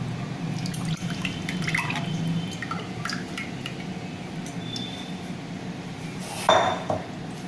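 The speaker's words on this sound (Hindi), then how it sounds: "ये देखिए अब हम इसमें पैन में ये डाल देंगे।" Tamarind pulp for a sweet-and-sour chutney is poured into a pan, making wet dripping and liquid splashes with light clinks of the pan and utensils, close and moderately loud, with a sharper knock near the end.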